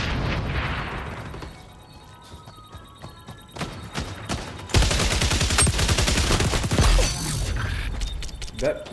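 Gunfire in the video game XDefiant, with scattered single shots giving way to a loud, rapid automatic burst that stutters on and off against mechanical clicks.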